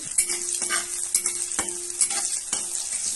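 Onion and chili frying in oil in a thick-bottomed pan for a plantain stir-fry, close and steady sizzle with a spatula stirring and scraping at a quick, regular pace.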